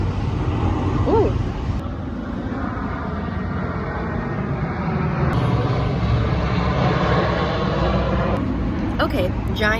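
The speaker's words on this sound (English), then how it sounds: "giant Air Force plane flying over, no big deal" A giant Air Force plane passes overhead on a Seoul street, a loud, broad engine roar that swells and holds across the whole stretch, with faint street sounds beneath.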